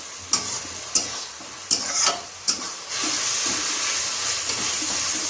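Food sizzles in a hot pan at home, struck by four sharp spoon or spatula scrapes of stirring before settling into a loud, continuous frying hiss.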